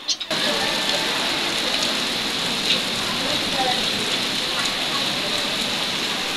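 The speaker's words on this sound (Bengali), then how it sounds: "এখন আবার দেখি আরো জোরে বৃষ্টি চলে আসলো" Heavy rain pours down steadily at a college, a dense, continuous hiss with no letup, while faint voices talk beneath the downpour.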